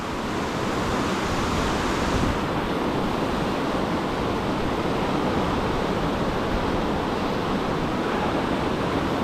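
Rushing river rapids at Ohiopyle in late February roar as a steady, dense wash of water noise, loud and unbroken throughout, with no voices.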